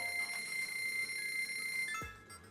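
Electronic beeping from a parts-exchange machine in The Legend of Zelda: Breath of the Wild, a steady tonal chime held for about two seconds before ending in a short falling blip.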